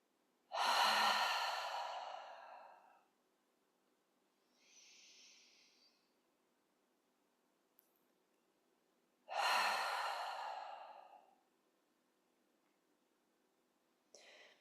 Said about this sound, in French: Vous pouvez commencer par inspirer profondément par le nez et souffler par la bouche.